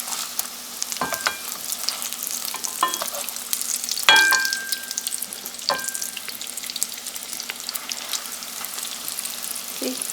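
Malabar crispy egg box pastry frying in hot oil, a steady bright sizzle throughout with a few sharp clicks and a brief louder crackle near the middle, close and continuous with no talking.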